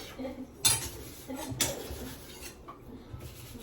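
Dishes and cutlery clink and clatter in a sink, with a few sharper metallic knocks amid steady rubbing and handling sounds.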